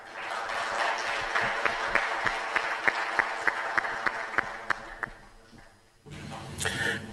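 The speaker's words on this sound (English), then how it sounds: "Please give them a round of applause" Audience applause for panelists at a scout conference plenary session, a dense, even round of clapping with distinct sharp individual claps standing out, ending abruptly before a brief burst of louder crowd noise.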